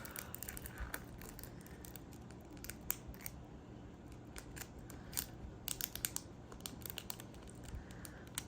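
Scissors make repeated short, crisp snips while cutting washi tape for diamond painting, heard close up but quiet, with faint crinkling of the tape between cuts.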